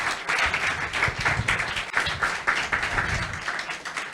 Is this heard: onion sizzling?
no